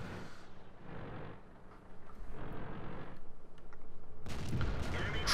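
Tank cannon fire from a video game battle, with a Panzer struck through a brick wall, as a series of loud booming shots and rumbling blasts, ending in a sharp, bright explosion.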